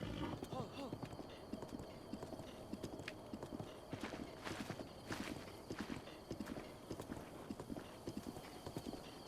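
Steady clip-clop of horse hooves at a walking pace in Breath of the Wild video game, fairly quiet, with the occasional soft horse sound in the background.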